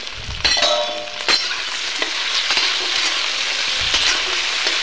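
Potato pieces fry in oil in a pan with a little turmeric. A steady, loud, close sizzle runs throughout, broken by a few sharp scrapes and clinks of stirring, and no one speaks.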